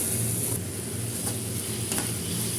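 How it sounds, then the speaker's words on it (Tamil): Capsicum sautéed with turmeric in a pan for a spicy relish: a constant dense sizzle with a couple of brief stirring scrapes, close and steady, no voices. "மஞ்சத்தூள் சேர்த்து இதை நல்லா நம்ம வதக்கிக்குவோம்"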